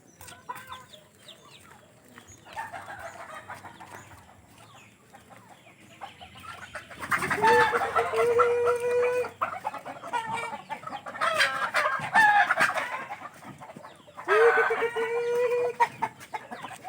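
Native chickens cluck and squawk loudly in bursts at feeding time, with a softer stretch of clucking at first, then several louder calls close by.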